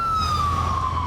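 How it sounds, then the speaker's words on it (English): A police car siren sounds as the car passes, a loud wailing tone that slides slowly downward over about a second. "Police have just gone past us, lights and sirens"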